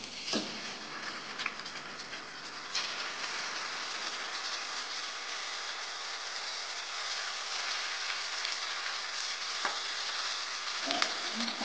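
Tilapia steaks sizzle and crackle steadily in hot cooking oil in a pan, a dense, continuous frying hiss with a few brief pops and clatters near the end.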